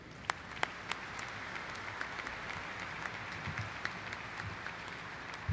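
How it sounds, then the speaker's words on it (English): An audience at a military community event for airmen and their families applauds steadily, a dense wash of clapping with a few sharper claps standing out, fairly distant and even throughout. "we owe the communities a round of applause"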